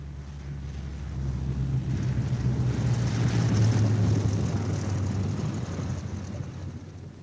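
A WWII bomber arrives at an airfield, its propeller engines droning in a low, steady roar that swells and then slowly fades, with wind rumble and no voices.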